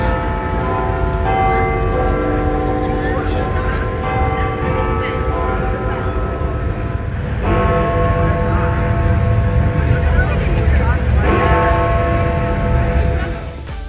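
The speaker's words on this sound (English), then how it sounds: "at the top of each hour, you can hear the clock tower's bell chiming" London clock tower bell chiming on the hour, slow resonant strikes with long ringing tails, several strokes spaced a few seconds apart, full and sustained over a steady background hum.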